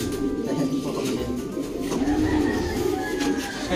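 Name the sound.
pigeon cooing in breeder loft, coronada type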